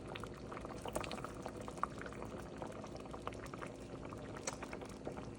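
Mung bean soup bubbles at a rolling boil as fish goes in, a soft continuous bubbling and liquid churning close by, with no talk.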